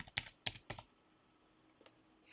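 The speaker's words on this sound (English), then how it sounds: "I'm going to type that" Typing on a computer keyboard: three sharp, close key clacks in quick succession, then a faint lone tap after a pause, in a quiet room.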